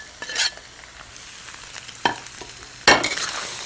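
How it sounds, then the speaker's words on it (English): Curd sprinkled with turmeric and salt sautés in a pan, a soft sizzle broken by three scraping strokes of a utensil, the last the loudest, with no voices. "Gently saute it"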